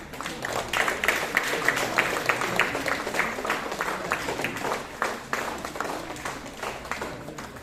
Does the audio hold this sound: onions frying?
no